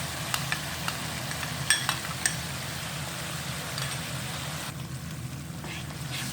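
Ketchup and chili garlic sauce being stirred in a pan, a soft steady sizzle with light scraping clicks of the spoon near the start, fading quieter toward the end.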